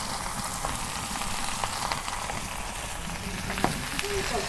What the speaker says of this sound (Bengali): এখানে আমি ভালো করে নাড়াচাড়া করে ঢাকা দেব